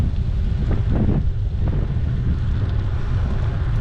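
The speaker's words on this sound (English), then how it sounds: "it's a very windy morning again" Strong morning wind at Cedar Key, Florida buffets the microphone in a steady low roar, with gusty rumble throughout and no voices.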